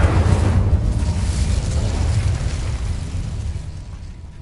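The Incendio fire spell is cast in the video game Hogwarts Legacy, producing a loud, roaring whoosh of flame that stays steady and dense, then slowly thins over several seconds, with no speech.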